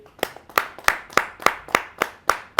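An audience at a Hindi kavi sammelan poetry gathering claps in unison to welcome a poet, about nine crisp, evenly spaced beats, with a faint tonal ring under the claps.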